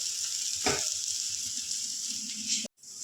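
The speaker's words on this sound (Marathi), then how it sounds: "आता दुसऱ्या साईडने पण तसंच आपण छान छान भाजून घेऊया" Banana wafers frying in a pan give off a steady, fairly quiet sizzle with a short burst of spatula movement early on, heard close up with no talking, cutting out briefly near the end.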